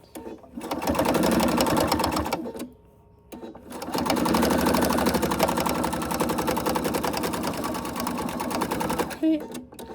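A sewing machine stitching the edges of a small fabric mini wallet runs in loud rapid bursts, pausing briefly twice before resuming its fast mechanical chatter, close up with no talking.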